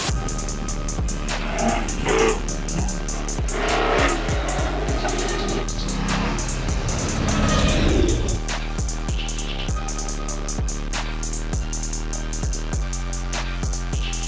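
A garage-built Ford Ranger prerunner truck with a crate LS3 engine drives hard, its loud V8 roaring and revving through repeated gear changes, with tire noise, alone without talk.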